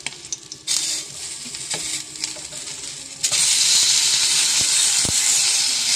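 Fish frying in a pan right after being flipped. A quiet crackle breaks into a louder sizzle, then swells to a strong, steady hiss close by, with a few clicks of a utensil.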